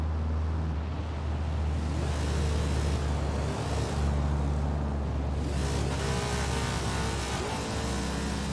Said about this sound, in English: Why I am hearing high revs here on the cruise?